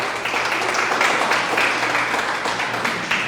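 Church congregation applauding during a sermon, a dense, steady wash of clapping at even loudness throughout, with a faint voice underneath.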